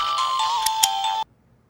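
A bright electronic ringtone melody plays for about a second, then cuts off abruptly into silence.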